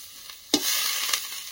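Brahmi greens dropped into hot ghee in a wok sizzle sharply, with stirring scrapes and a continuous frying hiss close by, no talking.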